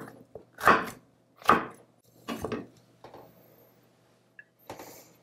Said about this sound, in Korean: 파프리카를 좀 굵게 썰어주시면 집어먹기가 굉장히 좋아요